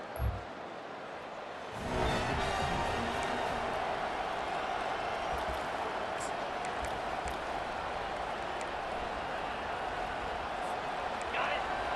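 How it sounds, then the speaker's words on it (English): A Senior Day stadium crowd in EA Sports College Football 25 surges into a loud, sustained roar that holds steady, heard beneath a play-by-play commentator talking over it. "this crowd bringing an ear-splitting welcome to their visitors"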